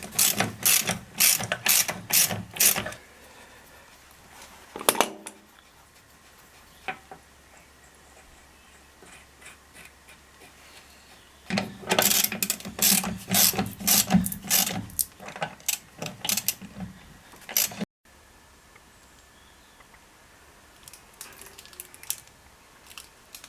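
A ratchet clicks in quick bursts while tightening the wheel nuts on an Austin Mini during restoration, two long runs of rapid pawl ticks separated by a quieter stretch, close and fairly loud with no talking.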